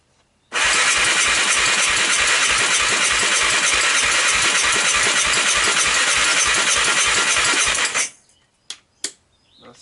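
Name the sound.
Honda TRX300EX ATV engine cranking, not starting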